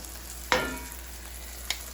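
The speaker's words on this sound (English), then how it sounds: "as they brown, you can hear the sizzling much louder" Chicken sizzles as it browns in a pan for Chicken Francese, a quiet steady hiss marked by one sharp clatter and a fainter later knock, with no voices.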